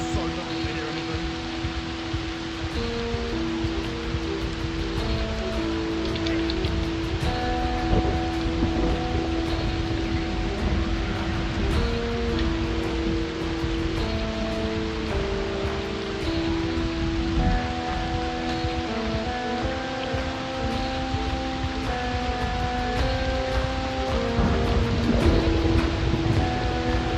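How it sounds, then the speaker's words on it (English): Continuous rainfall in Project Zomboid, a dense, even hiss lasting throughout, mixed with sustained musical tones and faint low thuds. "Rain makes it so difficult to hear anything."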